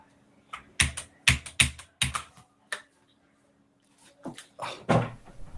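Computer keyboard being typed on right beside the mic, loud clattering bursts of keystrokes in quick clusters with a short pause in the middle, no talk.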